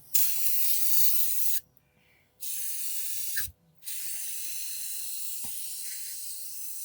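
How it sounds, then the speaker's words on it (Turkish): Brake cleaner sprayed onto a scooter variator in three hissing bursts: a long one, a shorter one after a brief pause, then a longer final spray, all loud and close, with faint clinks between. "Şimdi burayı balata spreyiyle biraz temizleyelim."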